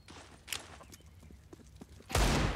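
Desert Eagle pistol shots in a Counter-Strike match on the Inferno map: faint scattered pops and footsteps, then a loud, close burst of gunfire near the end.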